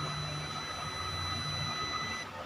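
An ohmmeter's continuity buzzer sounds while house wiring is checked at the main breaker, a steady high electronic tone that holds unbroken for a couple of seconds and then cuts off.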